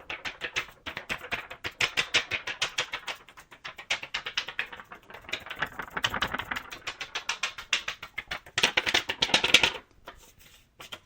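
Paper is handled against different surfaces near a Finalace AudioWow B2 3D binaural microphone, making rapid, dense crinkling and scratchy tapping that swells and fades, close and without speech.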